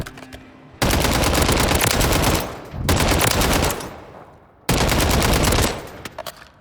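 Automatic rifle fire in Warzone rips out in three sustained bursts, loud and close, with brief pauses between them and no talk.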